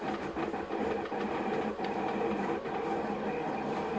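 A Kossel delta 3D printer printing a part with a linear bearing mount upgrade gives a steady, continuous mechanical whir with faint rapid motor stepping, close and constant throughout.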